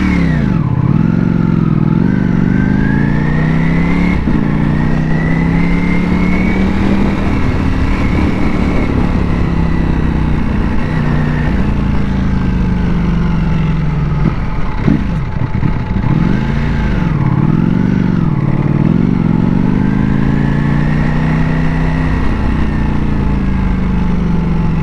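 A Ducati Panigale V4S superbike ridden through city streets, its engine revving and rising and falling in pitch as the rider accelerates and slows, loud and close throughout with no talk.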